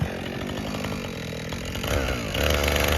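Chainsaw with a 20 or 24 inch bar cuts winter firewood, its loud close buzzing engine steady throughout and rising in pitch and volume near the end.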